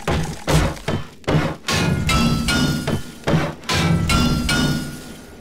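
Repeated hard wrench strikes against blocks in the game 7 Days to Die, a steady run of loud, close thuds and clanks about every half second.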